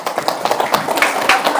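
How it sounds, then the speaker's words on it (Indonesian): A classroom group applauds student group 1 after a presentation, a short burst of dense, close clapping from many hands with no talk. "Kita beri tepuk tangan untuk kelompok 1."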